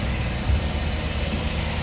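A 2010 Toyota bB Open Deck with a 1.5-litre engine and automatic gearbox idles, giving a steady, even low rumble close by with no other sounds.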